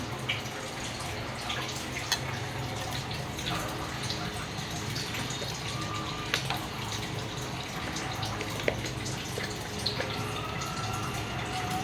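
Water is poured into a mixer grinder jar to rinse it clean, making a continuous trickling, splashing stream with small drips. The sound is fairly quiet and close over a busy kitchen background.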